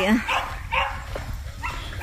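A few dog barks and yips sound close by, short and irregular, with a person talking over them.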